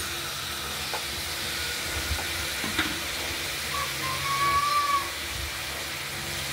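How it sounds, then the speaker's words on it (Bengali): Vegetables, including potato, onion, ridge gourd and pointed gourd, sizzle softly in mustard oil with salt and turmeric as they are stirred; a steady low hiss runs throughout, with a few faint scrapes and a slightly louder sizzle near the end. "হলুদ দিলাম, দিয়ে নাড়াচাড়া করে ঢেকে দেবো।"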